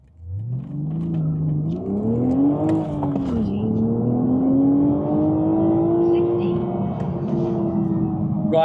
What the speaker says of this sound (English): let's do one more 0 to 60 pull.